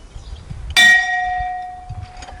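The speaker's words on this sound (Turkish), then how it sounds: "Bir de burada toplanma çanı var." A metal assembly bell at the Terezin concentration camp gives a single loud clang, then a clear sustained ring that slowly fades over a quiet room.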